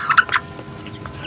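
Young turkeys gobble in a backyard pen, giving a quick burst of nasal gobbles close by before the sound falls to a quieter background.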